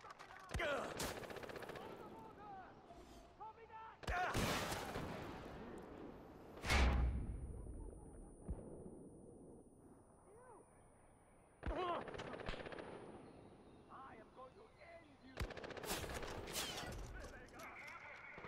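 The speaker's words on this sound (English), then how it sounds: "We got mortars or some shit." Explosive blasts of mortar and gunfire in the video game Far Cry 4 erupt in several loud bursts with rumbling tails and quieter gaps between them, while players talk.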